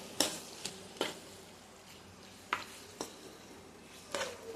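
Washed chicken is stirred and mixed in a pan, with a few sharp scraping clacks of a spoon against the metal spaced irregularly over a soft sizzle, close and moderately quiet.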